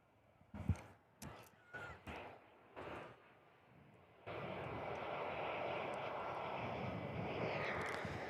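A Virgin Australia Boeing 737 airliner passes overhead at Perth Airport, its broad jet roar rising abruptly midway and holding loud and steady, after a few brief knocks and scattered sounds near the viewing deck.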